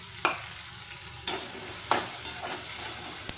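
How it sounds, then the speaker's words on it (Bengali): Spice paste frying with red-browned onions for a Bengali rohu fish jhal, stirred with about four distinct spatula scrapes over a low, steady sizzle. "মশলাটা দিয়ে ভালো করে কষিয়ে নেবো"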